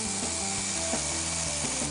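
A power saw with a laser guide cutting a wooden frame piece, giving a steady, close mechanical whine and buzz throughout the short burst, with no voices.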